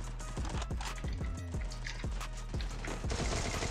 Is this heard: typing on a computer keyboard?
no